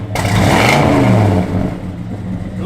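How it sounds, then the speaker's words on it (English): A 1969 Chevrolet Chevelle SS engine revs up loudly and close, the pitch rising and holding for about a second and a half before easing back to a rumbling idle. "Give it a little rev, Gary."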